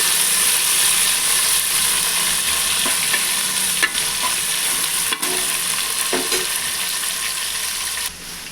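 Three chopped tomatoes sizzle in hot oil over fried onions in a pan, with a steady frying hiss and a few scrapes and clinks of a spoon stirring, heard up close with no talking.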